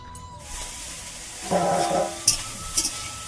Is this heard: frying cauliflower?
yes